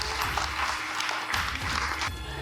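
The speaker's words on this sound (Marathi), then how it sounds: "तर एकदा जोरदार टाळ्या दोघींकरता" Steady applause fills a restaurant hall at a women's honouring event, a dense patter of many hands clapping for two game winners, even and moderately loud throughout.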